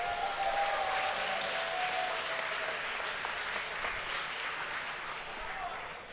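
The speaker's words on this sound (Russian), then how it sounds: "Ваши громогласные аплодисменты." A large crowd at a Dota 2 esports finals applauds steadily for several seconds, a dense, continuous wash of clapping that slowly tapers, with a voice speaking in Russian over it.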